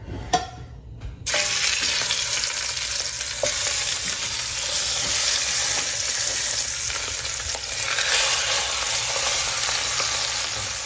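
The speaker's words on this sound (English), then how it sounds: "It's going to go onto these lamb leg shanks. All right, let's get to searing." Lamb leg shanks searing in hot oil give a loud, steady sizzle that starts abruptly after a brief quiet moment and holds strong and close throughout, with faint clinks and shifts under the continuous frying hiss.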